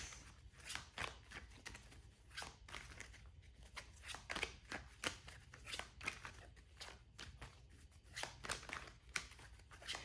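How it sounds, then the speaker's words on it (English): Tarot cards are shuffled in a faint, close series of quick papery riffles and snaps, repeating irregularly with no voices. "Oh, the cards flying around."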